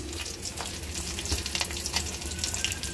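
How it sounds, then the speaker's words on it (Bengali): Onions sizzling and frying in hot pure mustard oil in a home kitchen pan, a dense continuous crackle with sharp spits and pops, close and steady without talk. "তেল গরম হয়ে গেছে, পেঁয়াজ দিয়ে দিচ্ছি"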